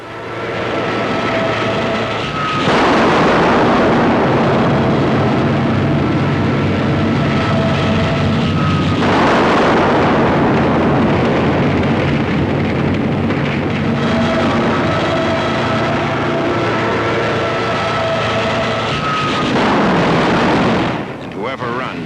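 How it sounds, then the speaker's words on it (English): Korean War napalm strikes and artillery barrage rumble in long, roaring waves, each swelling loudly, holding for several seconds and then cutting off, with heavy low booms and engine drone. "Scorching the place with napalm, while all the time the artillery softens up the survivors"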